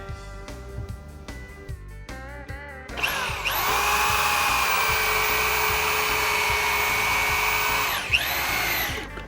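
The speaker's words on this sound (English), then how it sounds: "using power tools, and the reason for that is we're real close to a power source" A cordless power drill whirs steadily for several seconds after some light tapping and knocking, then winds down near the end, during log cabin work.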